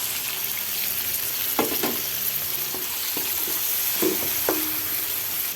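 Chopped tomatoes sizzle steadily in a hot pan for lunch, with a few scraping and clinking stirs of a utensil breaking the constant frying hiss.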